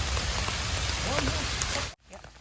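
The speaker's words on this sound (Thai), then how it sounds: "ฝนตก" Steady rain patters on the ground and leaves in a forest while mushrooms are picked. The hiss stays constant and close, then cuts off abruptly near the end.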